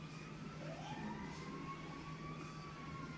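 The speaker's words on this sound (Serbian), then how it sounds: "Čuje se na igrici policija" A police siren in the GTA 5 video game wails faintly and steadily in the distance, a rising tone that holds and sustains against a low background hum.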